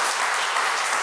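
Dense, even applause from about thirty foundation volunteers in a studio audience, a brief continuous patter of clapping with no voices over it.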